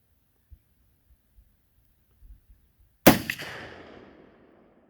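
A single sharp rifle shot from a sporterized .303 British Lee Enfield No. 4 Mk 1 cracks loudly outdoors after a few faint knocks, then rings out in a long decaying echo.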